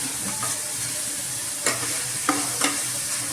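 Chopped beans and carrots are stirred in a hot pan, with a soft frying sizzle under a few distinct scraping strokes of the spoon, close and clear.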